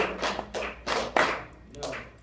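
Students in a music class clap a counted rhythm with a dotted quarter note, several uneven claps spaced across a couple of seconds, close and moderately loud over faint room noise.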